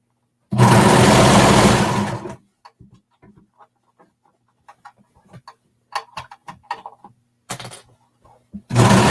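A sewing machine gives a short, fairly loud burst of stitching on a jacket sleeve lining, then falls quiet amid scattered light clicks and fabric handling, with another brief run of stitching near the end.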